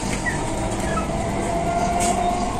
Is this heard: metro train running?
yes